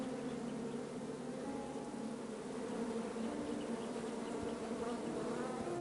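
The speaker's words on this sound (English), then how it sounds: "Bees! I ruined the bees' day." Steady, close swarm of bees buzzing around a beehive in the King's Quest adventure game, a continuous droning hum that holds level throughout with no talking.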